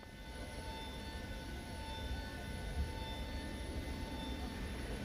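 Steady jet engine whine and low rumble from a FedEx Boeing 727 taxiing in Microsoft Flight Simulator, continuous and even, with thin high tones over a broad roar and no voices.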